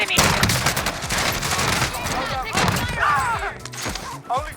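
Pistol gunfight in Warzone, a video game, with rapid bursts of close gunshots popping through a busy, loud mix of impacts and battle noise, some speech-like sounds mixed in.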